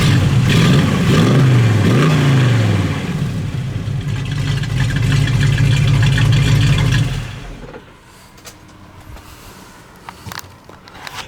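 A 1965 Chevelle V8 runs with a choppy, lumpy idle, loud and close, with a brief rev near the start, then the engine sound drops away leaving faint handling noises.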